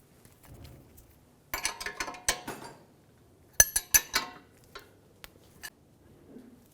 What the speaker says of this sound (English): Tighten the ball joint nut.